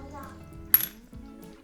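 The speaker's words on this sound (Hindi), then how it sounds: "अब मैं इसके पानी फेंक करके आपको बर्तन में इसका आवाज़ सुनाती हूँ, एकदम साउंड इसका क्लियर आएगा।" Set sugar syrup hardened in water clinks against a metal vessel in one short, bright tap with a small rattle, fairly faint over quiet background hum.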